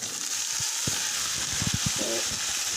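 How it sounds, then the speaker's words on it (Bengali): Potato pieces fry in hot mustard oil with bay leaf, chopped onion and five-spice, giving a steady, close sizzle with a few soft taps and scrapes of stirring. "এই তেল আলুর ভাজাটা এত খেতে মজা আপনার বলার নেই লাল লাল করে কড়া করে একদম ভাজলে"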